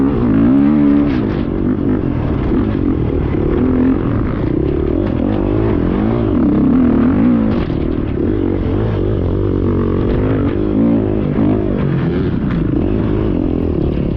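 An enduro motorcycle running a lap of a sprint enduro test course at the Shoals Motocross Facility: a loud, continuous engine drone close by, rising and falling in pitch as the rider shifts and works the throttle.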